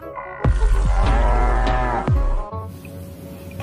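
A cow moos loudly and close up in a long, throaty low call lasting about two seconds, followed by quieter background noise.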